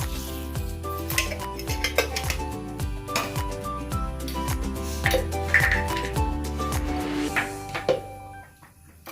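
Mustard seeds fry in oil in an iron pan, a soft sizzle under repeated clinks and scrapes of utensils against the pan, with a background hum throughout.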